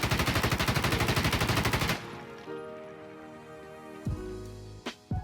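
M4A1 rifle fitted with a foregrip firing in Insurgency Sandstorm, a loud rapid automatic burst of about two seconds with even shot rhythm, then ringing tail, ambient hum and a few clicks of handling.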